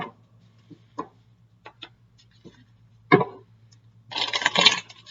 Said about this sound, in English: one more shuffle and then I'll cut